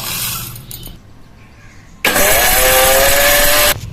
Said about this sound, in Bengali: এখন আমি মশলাগুলো গ্রাইন্ডারে গুঁড়ো করে নেব